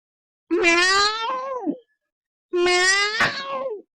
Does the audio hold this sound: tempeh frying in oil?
no